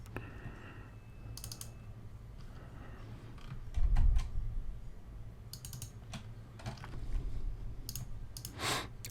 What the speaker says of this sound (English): I'm just double clicking on these to, you can also control click.